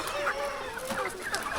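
Free-range native country chickens clucking at a farm, a busy overlapping chorus of hens and roosters continuous throughout, fairly close with scattered calls and no clear speech.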